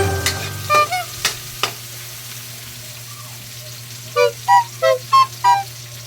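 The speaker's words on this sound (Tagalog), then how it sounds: "Sasama natin sa gisa si miso." Miso being sautéed with aromatics in a pan, a low steady sizzle running throughout with a few spoon scrapes early on, then a quick run of five bright stirring clatters near the end.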